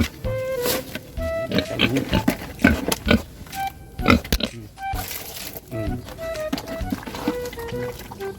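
A pig being fed its ration mixed with calcium powder grunts and squeals repeatedly and loudly up close, with feed rustling and the clatter of the feeding trough.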